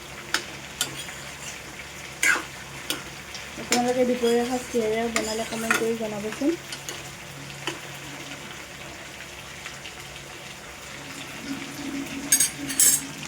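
Goat meat frying on low heat in a pan, a steady crackling sizzle with scattered spatula knocks, while someone speaks briefly in the middle.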